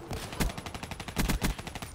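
Rapid bursts of gunfire from a Black Ops 3 match, sharp repeated cracks in quick succession over two seconds, loud and dense with a few heavier shots standing out, sounding more like automatic fire than single sniper rifle shots.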